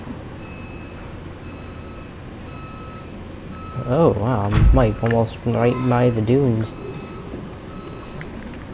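Repeated short electronic reversing beeps from a construction vehicle in the game Subnautica sound at a steady pace in the background while a person talks over them for a few seconds.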